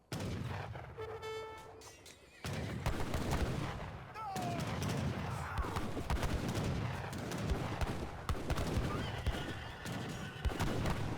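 A horse whinnies amid an Age of Empires III cavalry clash. A brief, clear neigh rings out early, then dense, continuous musket and cannon fire rolls on, with a few faint voices underneath.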